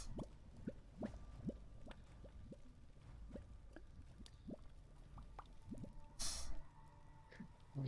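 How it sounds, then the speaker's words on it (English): Bubbling magma ambience for a tabletop game session: a quiet, steady run of soft liquid pops and drips over a low rumbling bed, with a brief louder gush near the end. "you can all enjoy the bubbling magma"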